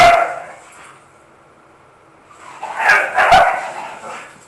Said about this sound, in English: now my dog and that dog are playing upstairs. And, oh wow, now they're coming down here.